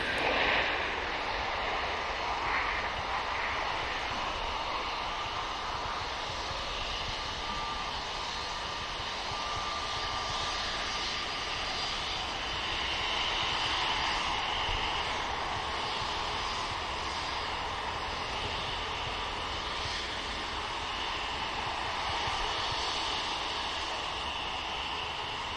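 A Scandinavian airliner taxiing onto taxiway Tango at Manchester Airport, a steady loud jet engine roar and whine holding constant throughout, with no talk.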